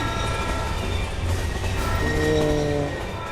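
A train in the Roblox game rumbles steadily with a sustained horn tone swelling and fading, loud and close, with no one speaking.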